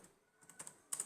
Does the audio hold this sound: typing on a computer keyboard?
yes